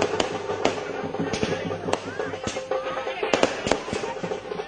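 Fireworks and firecrackers burst outside Gopinath Munde's home in Delhi during a welcome celebration. Rapid, irregular sharp cracks and pops follow one another closely, with crowd noise beneath.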